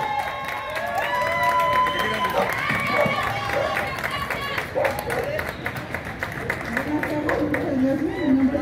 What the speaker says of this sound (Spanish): Yo quiero, por favor, que le demos un fuerte aplauso a este equipo heroico.